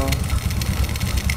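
A carbureted Honda Supra 125 motorcycle engine idles steadily close by, a low, even rumble with a continuous putter and no revving.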